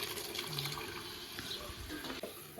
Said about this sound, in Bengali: ছোলা আর জলটা দিয়ে দেবো